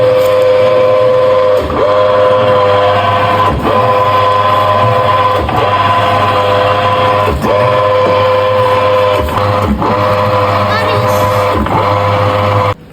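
An extruder machine forming a microparticulate wet mass runs loud and steady, its continuous motor drone broken by regular periodic clunks about every two seconds.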